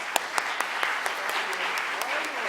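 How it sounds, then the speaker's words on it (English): A room of listeners at a Houston Police Department talk applauds a homicide detective; a steady wash of clapping holds for a couple of seconds, with a few sharper individual claps on top. "let's give her a warm round of applause"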